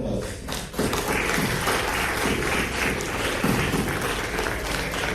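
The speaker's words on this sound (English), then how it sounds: "Please take a look at your family members, your mothers, your fathers, friends, and thank them. Give them a round of applause." Graduation ceremony audience applauding families and friends, a full, sustained wash of clapping from a large crowd with scattered thumps, steady and loud after a brief quieter opening.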